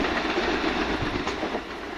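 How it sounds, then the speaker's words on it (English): A train runs through Preston Park station on the Brighton line with a loud, close, steady rush of wheel and rail noise and a faint rhythmic clatter under it. "here comes our train out of here"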